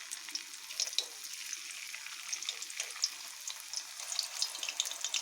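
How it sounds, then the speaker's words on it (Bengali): Raw green banana slices frying in hot oil, a steady soft crackle and sizzle with small pops throughout, fairly quiet and close with no talking. "এইভাবে আমি বাকি আমার যতগুলো আছে সবগুলোকে অল্প অল্প করে ভেজে নেব"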